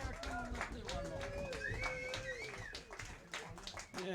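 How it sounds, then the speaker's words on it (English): Audience applause after a live music performance in a showroom, scattered clapping with a few louder claps, partly under talk and laughter from people nearby. "Maybe they're clapping because they're glad it's over."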